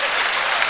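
Loud, dense applause from a live audience at a humorous talk, many hands clapping steadily without pause and no voices on top.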